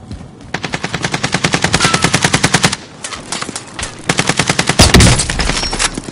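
Automatic gunfire in the video game Call of Duty Warzone: two long, rapid bursts of machine gun fire, loud and close, with a short pause between them and a sharper blast near the end.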